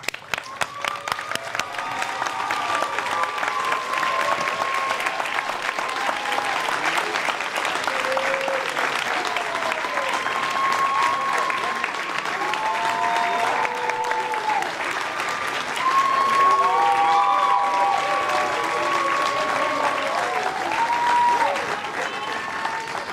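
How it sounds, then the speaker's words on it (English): A graduation audience gives a long standing ovation for the class of 2023, sustained loud applause with cheers and whoops rising and falling over twenty seconds. "give a big round of applause to the class of 2023"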